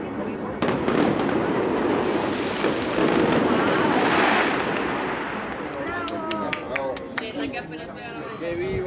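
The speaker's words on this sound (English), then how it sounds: "But oh my God, there's fireworks everywhere." Fireworks at a wedding celebration in Mexico crackle and boom in dense overlapping bursts, loud and sustained before thinning into scattered sharp pops and whistles, with people talking underneath.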